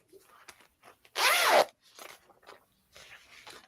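A zipper on a sewing project is pulled in a single quick, loud zip, surrounded by faint handling and rustling of fabric, with no voices.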